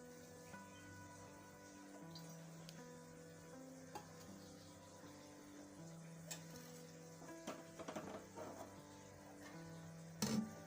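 Oil heats in a kadhai over a gas stove, giving a soft, steady low sizzle and hum with occasional light clinks, then a sharper metallic clatter near the end.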